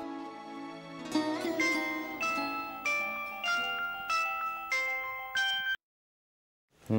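A phone's melodic ring tone on an outgoing call plays a rising series of electronic notes, then cuts off into silence before a brief sound returns.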